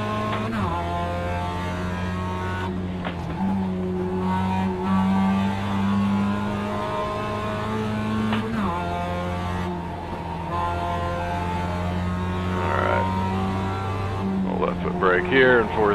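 Race car engine in a racing video game, a steady close drone held at high revs with brief dips at gear changes, running under someone talking throughout.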